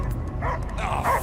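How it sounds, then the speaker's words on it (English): A dog barking in the video game Marvel's Guardians of the Galaxy: a few muffled, yelping barks over a low rumbling game ambience, with no speech. "I hear only barking."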